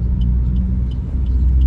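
A car drives along a road in Manila, heard as a steady low engine and road rumble with faint higher ticks, continuous and fairly close, and no talking.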